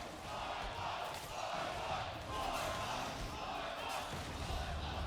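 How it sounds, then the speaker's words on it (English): Crowd cheering at a League of Legends ARAM esports match, Team Project versus Team Arcade, for Voyboy; a dense, steady roar of many voices fills the hall throughout with no breaks. "The crowd is loving it."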